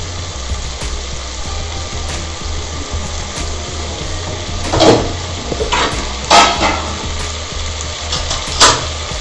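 A spoon stirs veg pulao in a home kitchen pan, scraping and clinking over a steady low hum, with a few louder strokes spaced apart near the end.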